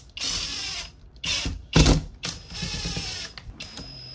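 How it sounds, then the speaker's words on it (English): A Skil impact driver drives screws into a wall mount, giving several loud rattling, ratcheting bursts separated by short pauses, close by with no talk. "It's the Skill impact driver."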